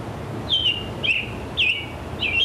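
A gray-cheeked thrush, a tundra-edge bird, singing four short nasal, slurred phrases at a steady spacing, clear against a quiet outdoor background.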